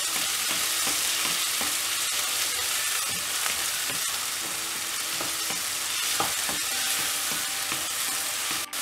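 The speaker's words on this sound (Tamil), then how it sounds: "இப்போ இதில் தக்காளி ஆட் பண்ணிடலாம். நல்லா வதக்கி விடணும்." Chopped tomatoes, onion and garlic sizzle and fry in a pan for an appalam and chana dal kootu, a steady close crackle with occasional stirring scrapes throughout.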